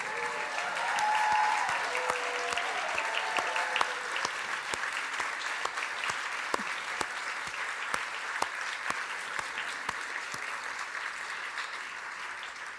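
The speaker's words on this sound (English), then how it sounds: "May I ask all the table hosts to stand for a round of applause." Steady applause from a sizable crowd at a gala fills the room, a dense patter of clapping with a few sharper claps standing out, continuing without a break.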